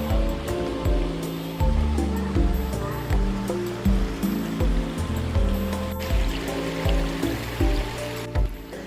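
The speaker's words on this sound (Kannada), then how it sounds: "ನದಿಯ ನೀರು ನಿರಂತರವಾಗಿ ಈ ಲಿಂಗಗಳ ಮೇಲೆ ಹರಿಯುವುದು ಇಲ್ಲಿನ ಮುಖ್ಯ ಆಕರ್ಷಣೆ" Shalmala river water running steadily over carved stone lingas, a continuous broadband rush with a steady tonal musical bed beneath it.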